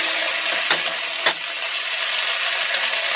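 Ginger garlic paste and chopped green chili fry in a pan with a loud, constant sizzle, while a few soft scrapes of stirring rise briefly near the start.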